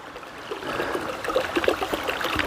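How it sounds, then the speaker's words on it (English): Small stream flowing beside a hiking trail on the Appalachian Trail, a close, bubbling trickle with irregular gurgles growing slightly louder, no talk over it. "here's a little water feature for you to brighten your day"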